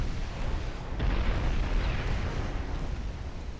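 Warship main guns fire in the naval video game Ultimate Admiral Dreadnoughts, a continuous heavy rumble of distant booming blasts that swells and holds steady without talk.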